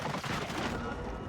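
Rapid gunfire in a first-person shooter video game, a dense continuous burst of shots filling the whole moment at steady loudness.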